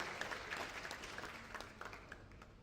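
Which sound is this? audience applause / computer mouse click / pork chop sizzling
audience applause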